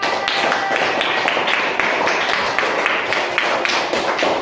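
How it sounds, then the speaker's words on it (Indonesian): Classroom applause for fourth-grade pupils, steady dense clapping from many hands, loud and close, lasting a few seconds with no pause. "Mari kita berikan aplaus bersama-sama."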